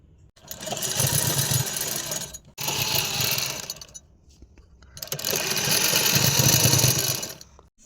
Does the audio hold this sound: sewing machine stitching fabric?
yes